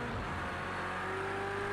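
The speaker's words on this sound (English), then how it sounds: "you can actually hear the traction control doing its business in this car" Project Cars 2 race car with traction control cutting in on a wet track, a steady engine drone with faint stuttering modulation as it accelerates out of a corner, continuous and close.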